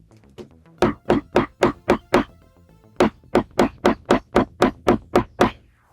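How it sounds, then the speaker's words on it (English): Sharp hammer taps strike a glued leather hem on trousers in two quick runs, about six blows then nine, evenly spaced and close by. "And as we move along, we can hammer it."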